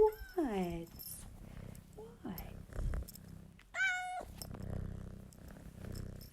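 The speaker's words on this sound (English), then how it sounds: "He was meowing for me to open the door for him." A cat named Georgie meows several times, loud and close, with rising, gliding cries, while a soft steady purr runs underneath and a person talks between the calls.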